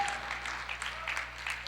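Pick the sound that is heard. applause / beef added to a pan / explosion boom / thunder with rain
applause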